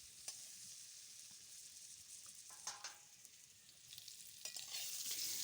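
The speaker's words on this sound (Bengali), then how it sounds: "নুন আর হলুদ দিয়ে আলুটা ভালো করে ভেজে নেব।" Potatoes frying in a pan with salt and turmeric, heard as a steady hiss of sizzling oil with occasional scraping stirs, growing louder toward the end, with no talking.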